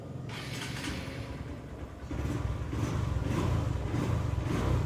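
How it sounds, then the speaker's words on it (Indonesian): An electric starter on a Yamaha Verza motorcycle is tested after a starter repair; a steady mechanical whir runs throughout and grows louder and denser about halfway through, with no voices present. "lalu kita coba saja untuk bagian starternya. Oke, kita tes langsung."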